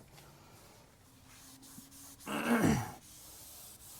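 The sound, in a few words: towel wiping cleaner off a Cybertruck door sill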